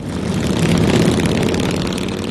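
A loud, full Harley-Davidson motorcycle engine rumble drones close by, steady and throaty with a slight swell in the middle, no voices.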